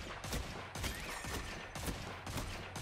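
The Dead Man's Tale exotic scout rifle fires in a video game, a string of sharp, evenly spaced shots in quick succession, each cracking loudly over a busy background of game noise.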